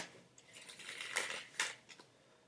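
A tarot card deck being shuffled by hand, giving a steady papery riffle with a few sharper snaps as cards slide and tap together, close and fairly quiet, with no talking.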